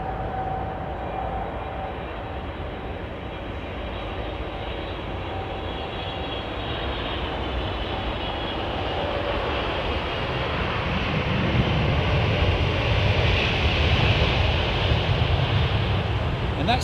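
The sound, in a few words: British Airways Boeing 777-300 aircraft at London Heathrow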